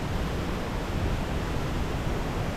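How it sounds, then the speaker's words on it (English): A large waterfall in Bali gives a steady, dense roar of falling water that stays broad and unbroken throughout, with no voices. "I hear the waterfall"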